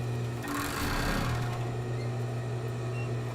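A sewing machine whirs steadily while stitching sports bra fabric, its motor hum loud and close throughout with a brief surge in speed near the start, running alone without talk.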